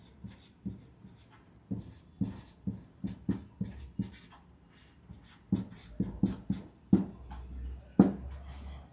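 Pen or pencil writing on paper, a series of short scratchy strokes with brief pauses, close and fairly quiet, no voices.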